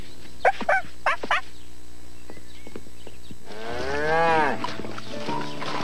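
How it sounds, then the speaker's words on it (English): Several short animal calls, then a long, loud Holstein cow moo rising and falling, heard up close with no talking. "Moo cow."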